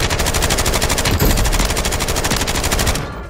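Sustained machine gun fire in Call of Duty: Warzone, a loud, rapid, unbroken burst of shots that runs about three seconds before cutting off, with no talk.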